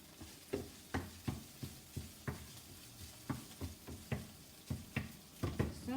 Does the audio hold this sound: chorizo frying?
yes